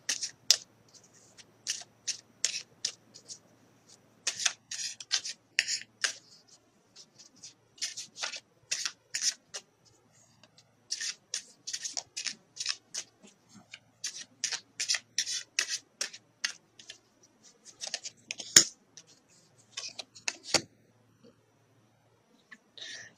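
Tarot cards are shuffled by hand in short, soft bursts of papery rubbing and riffling. The bursts are separated by brief pauses and sound close and quiet, with no voices.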